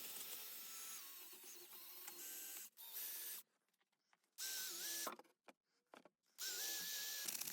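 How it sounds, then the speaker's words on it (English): A wire wheel on a power tool grinds loose paint off a stripped-down part of a Warco mini lathe, loud buzzing bursts broken by short pauses and quieter gaps. "I can go back to running over the wire wheel just to get off the majority of the loose paint"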